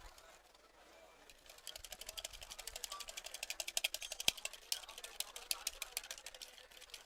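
Whisk beating a small batch of melted butter mixture for macarons in a bowl, quiet rapid rhythmic clicking and tapping that builds into a steady fast patter.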